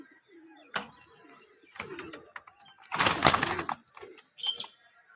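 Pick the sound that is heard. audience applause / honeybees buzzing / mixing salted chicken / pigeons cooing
pigeons cooing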